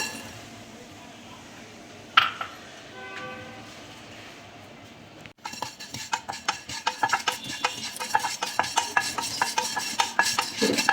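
Cumin, cinnamon, cardamom and black pepper dry-roasted in a pan, heard as a run of quick rattling, scraping and clinking strokes of a spatula on metal after a single sharp knock early on.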